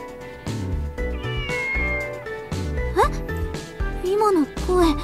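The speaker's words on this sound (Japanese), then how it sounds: "猫の鳴き声。" A cat meows several times over background music, the rising and falling cries fairly clear, with a melodic score underneath.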